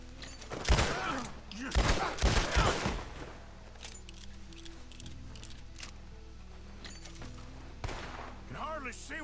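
Gunfire in the Red Dead Redemption video game, a few bursts of loud sharp shots close together early on, then scattered fainter shots, with a voice talking over the action.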